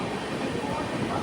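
An express train rumbles along from inside a sleeper class coach, a steady dense roar of wheels and rattling carriage noise, loud and continuous with no distinct clicks.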